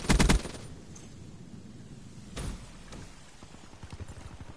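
Gunfire from a PS4 video game: a loud, rapid burst opens, then a second shorter volley about halfway through, with faint game background noise between the shots.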